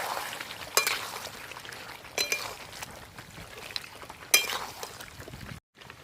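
Country chicken curry sizzles and fries in a pan while being stirred, with a soft steady hiss broken by three sharp clinks of a utensil against the pan.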